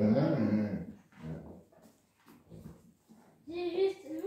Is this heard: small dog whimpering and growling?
yes